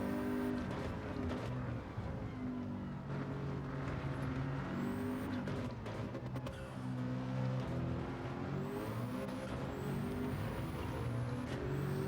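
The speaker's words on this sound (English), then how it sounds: "Sounds like a proper race car in front of us, doesn't it?" A race car engine in a video game roars continuously, its pitch rising and falling with gear changes, loud and sustained throughout.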